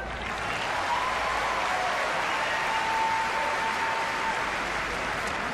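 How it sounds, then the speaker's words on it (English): A tennis crowd at a Montreal 2005 semifinal applauds and cheers steadily as a player serves for the match, a dense, loud, continuous roar with no break. "cheering him to the echo they are as he serves for the match"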